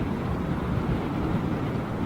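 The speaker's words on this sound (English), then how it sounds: "it's not really gusting, it's just a constant, about a 20-mile-an-hour wind, it feels like." Constant, ungusting wind of about 20 mph at Heathrow Airport rushes as a dense, steady low roar across the microphone, with no talk.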